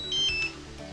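A DJI Mavic Mini drone remote controller gives a couple of short, bright electronic beeps as it powers off, close and clear against a quiet room.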